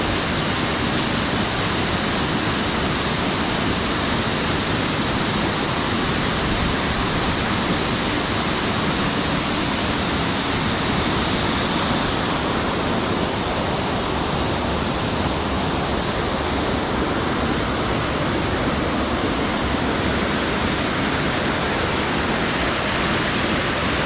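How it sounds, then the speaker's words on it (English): Harmby waterfall pours in a steady, dense roar of rushing water that fills the whole time, loud and close, without pause or change. "Feel the draft of the power of the water coming down,"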